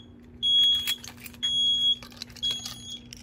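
An Edwards EST iO 1000 fire alarm system sounds during a pull station test in repeated high-pitched bursts, three pulses about a second apart, with a steady low hum underneath and some clatter between.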